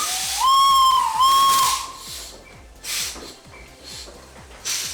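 Old machines at an agricultural museum let out a loud rising steam whistle, then a second long whistle blast, followed by bursts of hissing steam and a steady low mechanical chugging.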